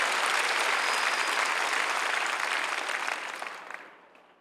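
A church congregation claps together at a worship service for peaceful reunification in Yongsan: dense, steady, loud applause that holds for several seconds, then tapers off and fades out near the end.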